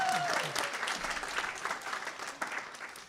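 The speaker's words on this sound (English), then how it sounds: "applause." An evening event audience claps in sustained applause that fades over a few seconds, with a voice briefly heard at the start.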